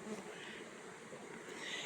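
Bees buzzing by a sumac tree outdoors, a faint steady droning hum with no breaks and no talking.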